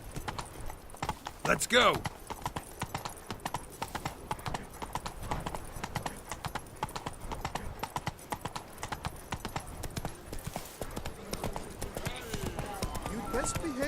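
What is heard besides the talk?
horse Roach galloping in video game The Witcher 3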